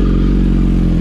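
A 2023 Hayabusa sport motorcycle engine with a Brock's exhaust idles loud and close on a dyno, a deep throbbing rumble with a rapid, even pulse and a faint mechanical clatter.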